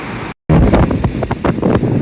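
Surf rolls steadily onto the beach at Maspalomas, loud and close, with gusty wind buffeting the microphone throughout and one brief dropout near the start.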